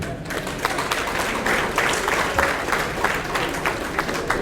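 An audience at a radio event applauds Professor Albarka after his paper presentation, steady crowd clapping with sharper individual claps standing out, fairly loud and continuous throughout.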